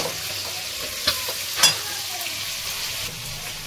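Chicken pieces frying in hot oil in a home kitchen, giving a steady close sizzle broken by a few sharp crackling pops.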